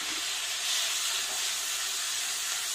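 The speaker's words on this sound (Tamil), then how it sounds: "இப்போ கட் பண்ணி வச்ச ரெண்டு தக்காளி பொடியா கட் பண்ணதை போட்டுடலாம்." Chopped tomatoes sizzle in hot oil in a pan while masala sautés for a brinjal and potato gravy, a steady close hiss with no talk.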